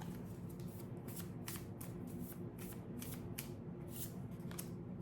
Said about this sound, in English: And let's pick an animal card.